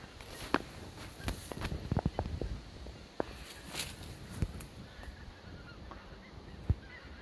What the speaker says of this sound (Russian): птицы орут, летят на юг.